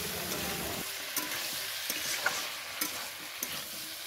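Tomatoes hit pork frying in a pan, giving a close, dense sizzling hiss with several sharp stirring scrapes and taps spaced through it.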